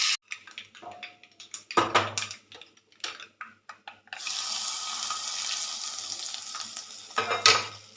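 Curry leaves, cumin, mustard seeds and chili frying in oil for a dondakaya (ivy gourd) roti pachadi, first as a run of short clattering bursts, then a loud, steady sizzle from about four seconds on with a final flare near the end.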